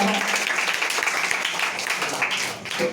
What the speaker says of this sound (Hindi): तो अनिकेत के लिए जोरदार तालियां।